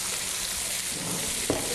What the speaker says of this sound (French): quand le beurre il commence à chanter, on peut commencer à le mettre dedans, c'est qu'il a atteint une température de cuisson